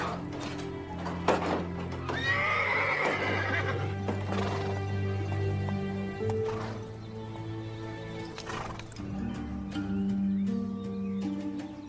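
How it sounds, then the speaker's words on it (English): A horse neighs and whinnies loudly up close while its hooves clip-clop steadily on the ground, in a western setting, with several more whinnies following. "That's Frank James's horse, all right."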